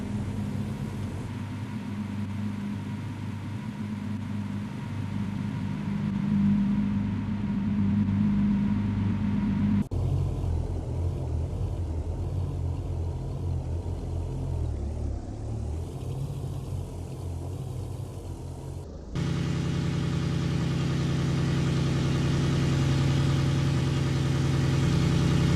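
Three hypercars from a video game, a Koenigsegg Jesko, Bugatti Chiron and Lamborghini Revuelto, idle at a drag-race start line, with a steady low engine rumble that shifts character twice, heard alone at a constant level.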